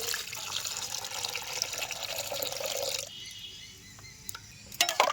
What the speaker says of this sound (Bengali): দু ঘন্টা তো আমি ভিজিয়ে রেখেছিলাম ইসু ফুলের ভুসি আর তোকমারি সেটা আমি বালতির মধ্যে ঢেলে দিচ্ছি